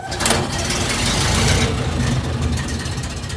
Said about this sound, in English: Let's see here, hit the starter.